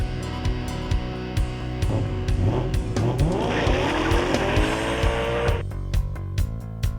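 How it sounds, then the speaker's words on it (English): A rear-wheel-drive BMW M3 with a six-speed gearbox is driven hard, its engine rising in pitch through the gears while sharp tire squeal cuts in over the middle stretch, loud and close throughout. "It's an M3. Let's go see what sheer driving pleasure really is."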